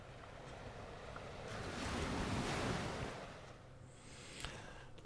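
Sea waves rolling and washing in a sailing video game, a broad surging swell that builds to a peak in the middle and eases off, faint and steady with no voices.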